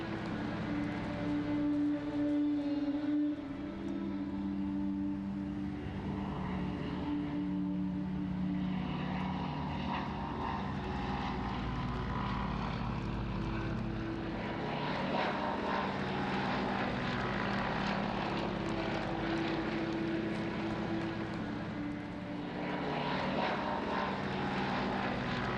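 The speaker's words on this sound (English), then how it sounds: "swordfish, or stringbag as it was known, flown by the Royal Navy Historic Flight" Fairey Swordfish biplane of the Royal Navy Historic Flight flying a gentle air display, its propeller engine droning steadily and loudly throughout with slight rises and falls as it passes.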